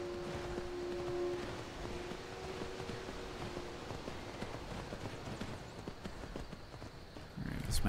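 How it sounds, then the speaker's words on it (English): Horse hooves clip-clop steadily in Skyrim, a dense run of close, even hoofbeats over an outdoor ambience, with a steady tone in the background and a louder rustle right at the end. "Get the horse close by."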